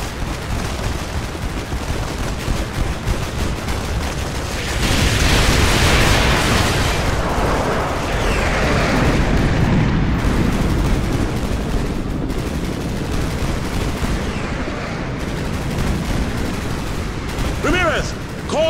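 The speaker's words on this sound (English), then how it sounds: "Use your laser designator to call in artillery on those vehicles." Explosions, gunfire and booming impacts crowd together in Call of Duty: Modern Warfare 2 as artillery falls on enemy vehicles, producing a dense, loud, continuous rumble of blasts and bursts.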